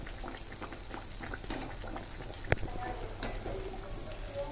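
Quiet bubbling sizzle of muthiya dough balls for churma ladoo frying in hot oil over low flame, with soft crackles and one sharp pop partway through.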